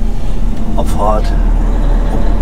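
A low-loader truck rumbles steadily at close range as it pulls away, a dense, loud engine drone filling the whole moment, with a voice briefly heard over it.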